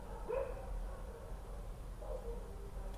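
Dogs barking in the distance, a couple of faint, brief barks heard at separate moments over a quiet, low room hum.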